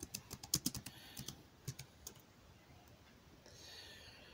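Quick bursts of close key clicks on a computer keyboard, typing a search into a browser, then quieter pauses with faint background hiss.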